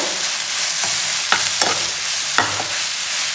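Chicken momos fry in a hot pan, a steady loud sizzle with a few light clicks and scrapes of the utensils against the pan.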